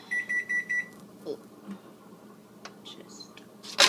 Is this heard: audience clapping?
no